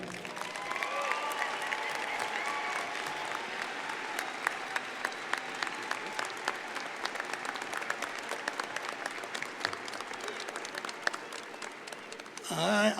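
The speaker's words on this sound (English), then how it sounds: "give a rousing standing round of applause to our speaker" A commencement ceremony audience at the Community College of Denver gives a speaker a sustained round of applause, dense steady clapping from a large crowd indoors that holds for the whole stretch, with a voice breaking in at the very end.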